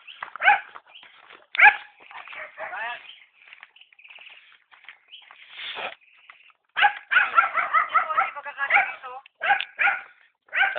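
Several dogs bark outdoors in repeated bursts of sharp barks, yelps and whimpers, some close and loud, others fainter, with brief quiet gaps between.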